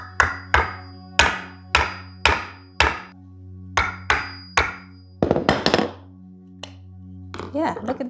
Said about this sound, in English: Now let's go ahead, hammer it, just poke it into the center.